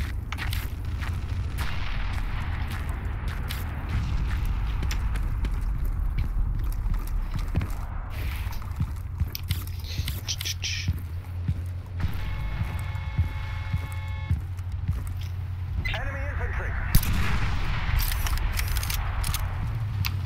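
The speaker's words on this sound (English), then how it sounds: "I'm coming with the rocket launcher." Rocket launcher fire in the futuristic war game Battlefield 2142, a muffled boom set in a dense, continuous bed of battlefield rumble and distant gunfire, with no clear single blast standing out.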